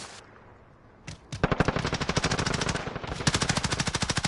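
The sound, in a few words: gunfire in Call of Duty video game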